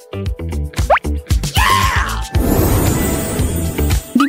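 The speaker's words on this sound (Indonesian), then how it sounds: "Dimulai dengan tetesan kecil." Small drops of liquid dripping and plopping during a kitchen chocolate fondue challenge, a series of close, distinct wet plops followed by a longer fizzing, splashing pour.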